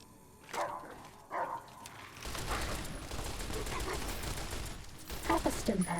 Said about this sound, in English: Where are all these dogs coming from?